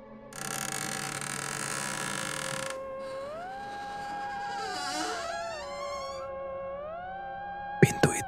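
An old wooden door is slowly pushed open, giving long, wavering, pitch-sliding creaks and groans that stretch over several seconds after a hissing bed of noise, then a few sharp knocks at the end.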